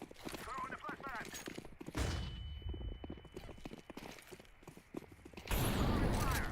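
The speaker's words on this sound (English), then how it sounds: "Throwing the flashbang." Video game flashbang going off: a sharp burst followed by a thin, high ringing tone that lingers for a few seconds, then a second loud burst, all amid rapid gunfire clatter and voices.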